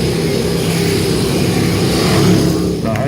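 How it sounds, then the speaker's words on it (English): A group of Harley-Davidson motorcycles rides together in close formation during a Golden Helmets display, producing a loud, steady, deep engine rumble that holds evenly, with no voices. "The Harley Davidson."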